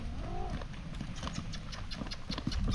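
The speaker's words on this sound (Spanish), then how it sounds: "la Camila la voy a dejar ensillada" Saddled horse walking on a ranch, its hooves clip-clopping at a steady, irregular pace nearby, fairly soft, with a brief low tonal sound near the start.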